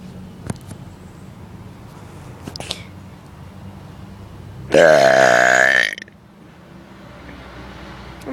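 A single loud, long burp erupts after quiet room tone with a few faint clicks, rasping and croaking for about a second before stopping abruptly.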